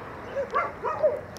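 At a shelter near Tangier housing hundreds of dogs, a voice imitates a dog's barking with several short, rising 'woof' sounds in an uneven rhythm, moderately loud and close.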